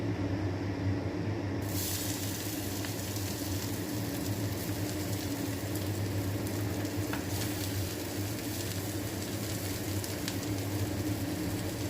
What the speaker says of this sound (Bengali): পেঁয়াজটা দিয়ে ভালোভাবে নাড়াচাড়া করে এটা ভাজতে দেব